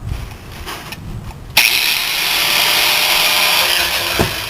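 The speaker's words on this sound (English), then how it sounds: "I can't find them inside, so I'll just take the grinder." An angle grinder spins up and bites into the steel of a truck frame, widening screw holes with a loud sustained high whine right after some quiet handling clatter.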